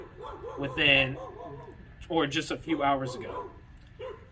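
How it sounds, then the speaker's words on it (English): Dogs barking outdoors in short yips and bow-wows behind a person talking close by, the barks fairly distant and mixed in with the speech. "I apologize for the dogs barking and I'm outside."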